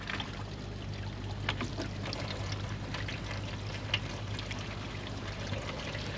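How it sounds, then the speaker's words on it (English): Water flows and splashes steadily through a hose while flushing the heater cores of a 2004 Subaru Impreza, a continuous watery rush with a few small knocks and gurgles, no one speaking. "I hear water, but I don't see water"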